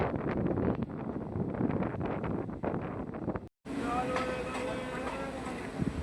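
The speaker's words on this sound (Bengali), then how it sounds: "আর আমাদের ট্রেন ছেড়ে দিল, আমরা বেরিয়ে যাচ্ছি লিলুয়া স্টেশন থেকে।" A local train pulls out of Liluah station with a steady rumbling roar and heavy wind buffeting, then an abrupt cut to a smoother, quieter ride with faint metallic rattles and muffled voices.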